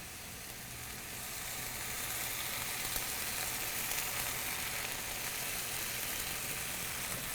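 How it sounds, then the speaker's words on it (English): Waterloo Dark beer poured into a pan of wilting onions and vegetables raises a steady, broad sizzle that swells slightly and holds, alone without talk. "Now we're going to add in some Waterloo Dark."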